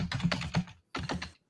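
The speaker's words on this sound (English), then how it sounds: "He's typing like a madman." Fast typing on a computer keyboard makes rapid bursts of close, crisp key clicks with a brief pause between flurries and no talk.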